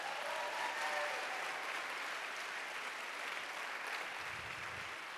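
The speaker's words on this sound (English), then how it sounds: "Another round of applause for Fess, please." A live Ignite Seattle audience gives a sustained round of applause for a speaker, many hands clapping in a broad, even wash that stays level and fairly soft before easing slightly at the end.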